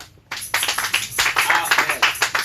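A church congregation claps together in a lively, steady rhythm, the hand claps close and bright, mixed with voices calling out in acclaim to the Lord.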